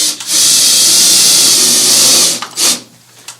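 A power drill or driver sends a screw into the bottom of a metal mounting bracket, one loud, sustained whir that runs about two seconds and is followed by a couple of short follow-up bursts, with no talking.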